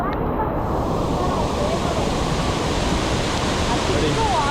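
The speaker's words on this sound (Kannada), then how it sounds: "ಮೇಲ್ಗಡೆ ನೀರು ಹೆಂಗೆ ಬರ್ತೈತೆ ನೋಡ್ತಾ ಇದ್ದೀನಿ ನೋಡಿ" Abbe Falls near Madikeri pours down in monsoon flow, a loud, dense, unbroken roar of rushing water filling the whole moment, with faint voices nearly buried beneath it.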